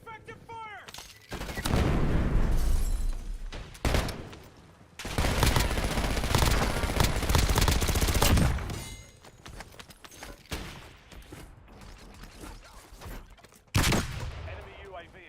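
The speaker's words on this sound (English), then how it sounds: "Taking effective fire." Sustained bursts of video game gunfire in Call of Duty Warzone on the Verdansk map: loud rapid volleys and heavy fusillades in several long stretches, with short pauses and a final sharp burst.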